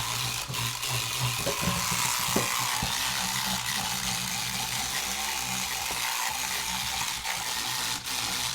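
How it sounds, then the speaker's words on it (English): A spinning brush scrubs sneakers that are being cleaned with sneaker foam and shaving cream, giving a steady, continuous whirring, scraping buzz with a few sharper clicks, close up and with no talking. "that brush is spinning around"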